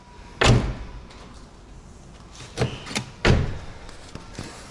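A Volvo XC90 car door shuts with a solid thunk, followed by a couple more door slams and softer knocks close by.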